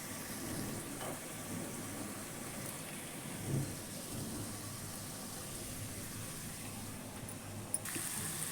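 Steady rain falls on surfaces during a May downpour, a dense, even hiss with low rumbling thunder underneath and a few brief knocks, heard alone at moderate distance.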